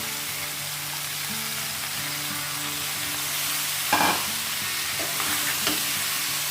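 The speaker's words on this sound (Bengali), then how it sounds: "এবার একটু নাড়াচাড়া করব।" Bottle gourd and prawns stirred in a hot pan, a steady sizzle underneath with a few louder scraping stirs near the end, close and alone with no talking.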